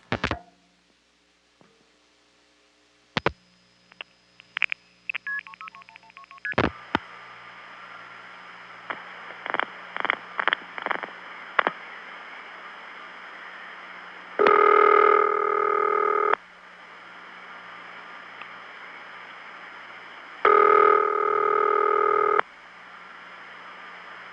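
A mid-1970s long-distance telephone call routed through old exchanges: clicks and thumps, a burst of rapid dialing pulses and tones, then two long, loud steady call-progress tones, each lasting about two seconds, over a faint line hum.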